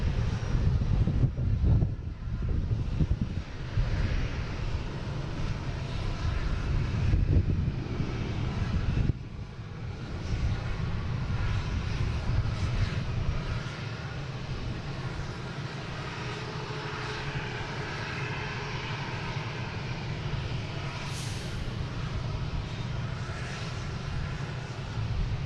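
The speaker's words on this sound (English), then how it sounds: "next taking off is Delta, heading to San Diego in A321neo" Delta Airbus A321neo taking off at Boston Logan, a loud jet engine roar that holds strong early, then eases into a fading, distant rumble.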